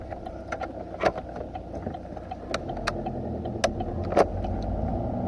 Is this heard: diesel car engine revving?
yes